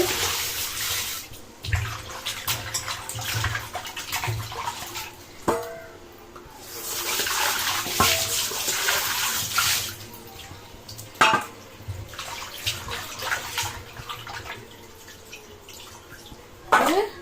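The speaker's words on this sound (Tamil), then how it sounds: "அப்புறம் தண்ணி ஊற்றி நல்லா அலசிடணும்" Water from a tap runs in bursts and splashes into a basin while stingray fish is rinsed, with intermittent clinks and handling noises between the flows.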